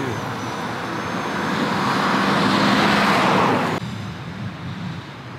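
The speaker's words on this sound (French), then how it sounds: "Encore une voiture." A car passes close along a windy road, a broad rushing swell of tyre and engine noise that builds for about four seconds, then cuts sharply to a lower steady roar of wind and distant traffic.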